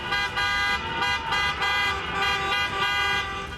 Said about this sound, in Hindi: लोगों ने विरोध जताने के लिए अपनी गाड़ियों के हॉर्न भी बजाए।